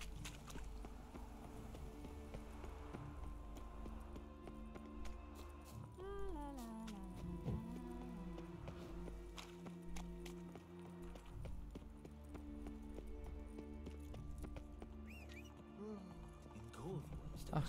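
Hoofbeats of a horse ridden in The Witcher 3: Wild Hunt clop steadily under game music and ambience, with someone talking over them for much of the time.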